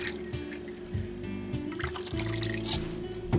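Milk pours into a pot of old-fashioned oats and water, a close liquid trickle and splash over background music.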